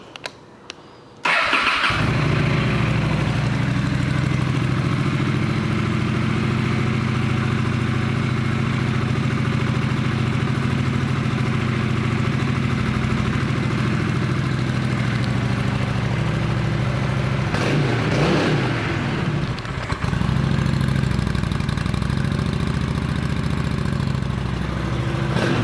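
2011 Honda Shadow Phantom 750 motorcycle cranks and fires up, then idles at a steady, close, rumbling beat for over twenty seconds, with one short blip of throttle near the end and no talking.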